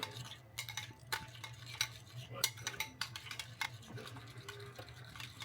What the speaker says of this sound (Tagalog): Haluin pa natin ng bonggang-bongga.